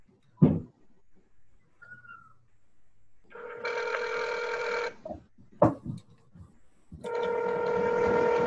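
Telephone ringing and dialing on a call line, heard as two long electronic ring bursts with steady harmonic tones, separated by sharp clicks and a short beep, fairly close with no speech.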